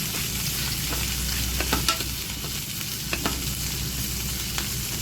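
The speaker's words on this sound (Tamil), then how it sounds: "அப்புறமா இதெல்லாம் நல்லா வந்து ஃப்ரை பண்ணி விட்டுக்கணும்" Carrot chutney ingredients frying in a pan make a dense, continuous sizzle. Occasional faint knocks of a stirring spoon sit over it. The noise is close and even throughout, with no speech.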